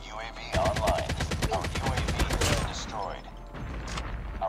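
Rapid automatic gunfire in the mobile shooter Call of Duty Mobile, a dense loud burst lasting about two seconds with a few scattered shots after, under excited talk from players.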